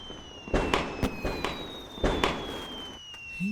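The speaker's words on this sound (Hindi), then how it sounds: "ये लोग पटाखे क्यों फोड़ रहे हैं?" Firecrackers burst in a string of sharp, loud cracks spaced irregularly over a few seconds, with a thin whistling tone running steadily underneath.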